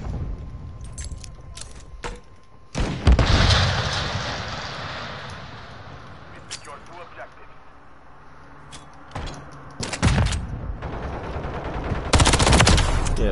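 Bursts of video game gunfire crack loudly in clusters, with rapid automatic volleys near the start, middle and end amid rumbling battle noise.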